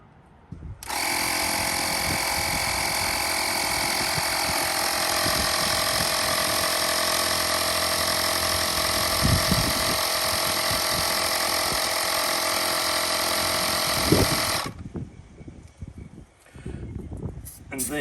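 Small Airhawk Pro portable tyre inflator pumping a camper's tyre to 55 psi, starting abruptly with a loud steady high-pitched buzzing whine for about fourteen seconds before cutting off, with some faint knocks and handling noise underneath.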